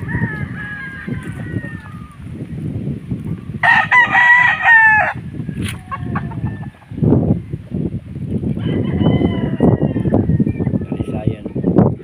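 Roosters crow repeatedly among clucking chickens at a busy poultry sale, the loud calls rising over constant crowd chatter and people talking nearby.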